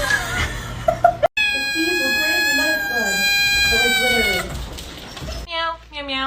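A kitten meows loudly and repeatedly, in drawn-out, rising and falling cries, with a short break partway through before the meowing resumes.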